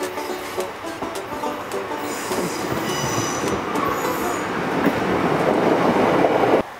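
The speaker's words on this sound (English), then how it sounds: "We've hopped off the train here at Penryn, the busiest station on the Maritime Line." Train running on the Maritime Line in Cornwall, a rumbling rail passage with rhythmic wheel clatter and high squealing from the wheels, swelling louder toward the end before cutting off.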